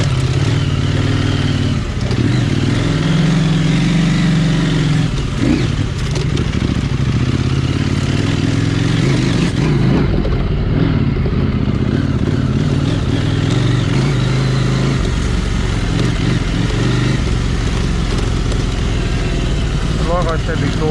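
A KTM 790 Adventure R motorcycle fitted with a Wings slip-on exhaust rumbles steadily at low speed, loud and close throughout, with wind noise over the engine's throbbing drone.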